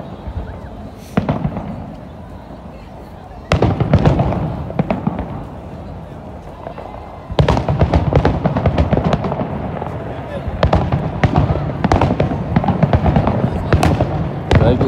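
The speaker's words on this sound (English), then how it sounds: "Toronto fireworks, bro." Toronto New Year fireworks crackle and bang in dense bursts, coming in waves after a quieter stretch, with people talking and shouting in between.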